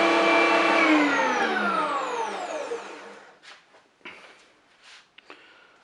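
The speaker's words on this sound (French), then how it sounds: "On va maintenant broyer la viande" A brand-new electric meat grinder for mincing merguez meat hums loudly with a whining motor tone that slides downward as it winds down, followed by a few scattered knocks and clunks.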